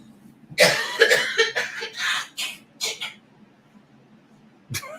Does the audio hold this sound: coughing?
yes